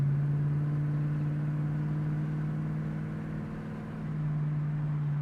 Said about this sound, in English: The exhaust has a nice throaty sound to it, but it's not excessive.